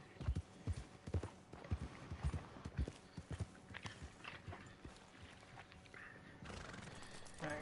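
Horse in the Red Dead Online game: rhythmic hoof clip-clops close by across the whole span, broken by a couple of neighs and whinnies, with a steady ambient bed behind.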